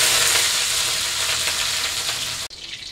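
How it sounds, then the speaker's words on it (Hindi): Capsicum frying in hot oil in a kadhai wok gives a loud, close, dense crackling sizzle with faint stirring, cutting off abruptly near the end into a quieter hiss, with no talking. "अभी कैप्सिकम को फ्राई कर लेंगे।"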